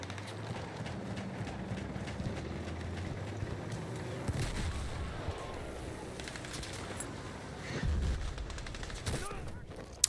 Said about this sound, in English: Loads of us just got sniped.